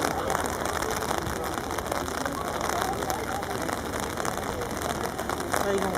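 Steady, dense rain pours down without a break at an outdoor show jumping event in Paris, and people talk in the background beneath the constant hiss.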